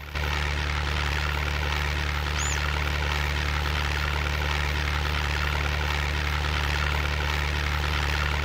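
Aircraft engines drone steadily during a takeoff in the war strategy video game Blitzkrieg, a continuous loud propeller hum with a constant low rumble throughout.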